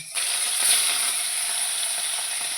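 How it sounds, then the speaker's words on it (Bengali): Hot oil sizzling steadily as fish fries, a bright crackling hiss starting abruptly and staying loud with no one speaking. "তেলও দিয়ে দিলাম মাছ ভাজার জন্য এবার আমি মাছগুলো সব ভেজে নেব"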